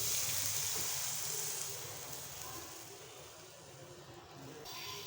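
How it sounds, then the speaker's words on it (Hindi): Milk poured into roasting poppy seed paste for halwa in a hot pan, giving a steady close sizzle and hiss that slowly fades and softens, with a brief brighter hiss near the end. "1 गिलास दूध का ऐड कर देना है।"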